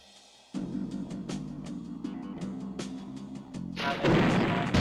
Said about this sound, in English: I wonder if I mortar this wall, if it'll just go straight down